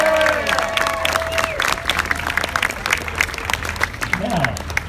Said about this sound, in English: let's give her a big hand.